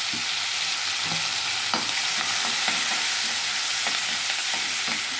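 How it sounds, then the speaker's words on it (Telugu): Onions, green chillies and curry leaves fry in hot oil with a steady, loud sizzle, broken by intermittent scraping stirs from a spoon against the pan, with no voices. "అదే నూనెలో ఉల్లిపాయలు, పచ్చిమిరపకాయలు, కరివేపాకు కూడా వేసేద్దాం"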